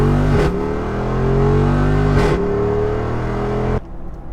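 A Jeep Wrangler 392 V8 pulls hard at full throttle, a loud, close engine roar with rising tones that dip twice at gear shifts before cutting off sharply near the end.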